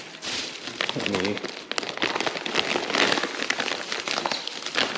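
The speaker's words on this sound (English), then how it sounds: "I'll keep this in the plastic bag just in case there's some leakage" A Ziploc plastic bag being sealed around food crinkles and rustles close by in irregular bursts of crackling, with a voice heard briefly near the start.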